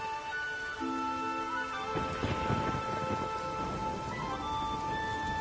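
Steady rain pours through a thunderstorm in the video game The Witcher 3, with a deep rumble of thunder rolling through the middle and soft tonal background ambience throughout.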